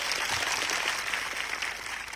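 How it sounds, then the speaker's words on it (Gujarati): A large crowd of tribal people at a rally in Khedbrahma, Gujarat, over the Aravalli issue claps hard, making a dense, steady roar of applause that fills the whole moment. "આજે આ મંચ પરથી એમના માટે જોરદાર તાળીઓ પાડી લો."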